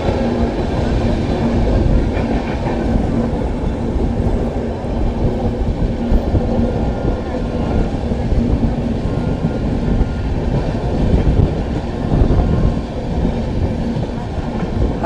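Amritsar Ajmer Express rushing through Model Gram station without stopping, a loud, steady rumble and rattle of wagons with clickety-clack rhythm continuing throughout.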